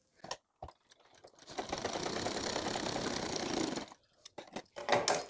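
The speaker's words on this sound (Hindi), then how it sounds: "पहले किनारे वाली सिलाई हम तीनों तरफ से लगा लेंगे।" A sewing machine runs a steady, close whirring stitch along the edge of a fabric potli bag for a couple of seconds, framed by brief handling clicks and taps before and after.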